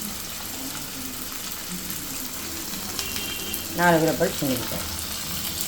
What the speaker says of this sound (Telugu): చూసారా పోపు ఎంత బాగా వేగిందో.